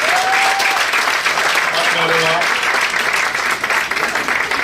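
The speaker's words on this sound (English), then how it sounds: "Please, can you give a round of applause for this lady?" A crowd at an administrative office inauguration applauds a woman, with sustained, loud, even clapping throughout and brief vocal tones and cheers riding over it.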